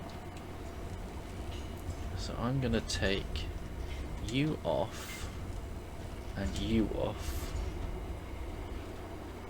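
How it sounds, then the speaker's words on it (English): A train passes nearby, a low steady rumble of railroad cars running under someone speaking intermittently. "Excuse the train."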